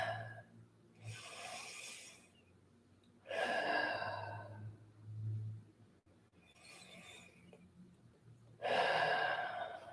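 Deep, slow breaths in and out during puppy pose in a yoga class, several long inhale-exhale cycles at close range with soft, airy swells and quiet pauses between, no talking.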